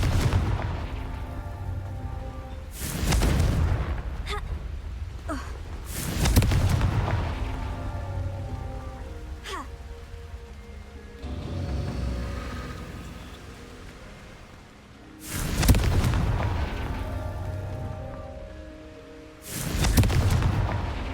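Confringo explosion spell blasts in Hogwarts Legacy: four loud, booming bursts spaced a few seconds apart, each with a crackling tail over a low rumbling game background.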